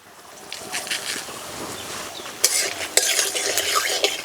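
Dried red chillies and nigella seeds go into hot oil for tempering, with a bright crackling sizzle and the scrape of a spoon stirring the pan. A few sharp clicks of metal stand out, close and loud, with no talk.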